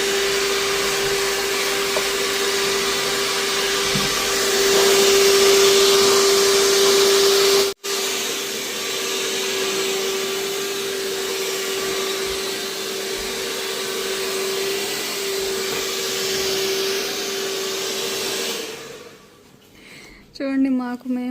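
A handheld hair dryer blows on freshly washed hair during a salon hair-botox treatment, giving a steady, close whirring drone that cuts out briefly once and stops near the end, with soft voices beneath.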